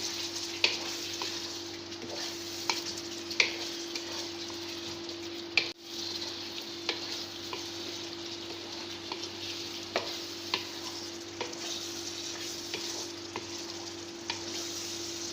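Crushed red chilli and turmeric sizzle steadily in a hot pan with oil, a soft continuous frying hiss broken by occasional faint clicks and a spoon scrape, with no one speaking.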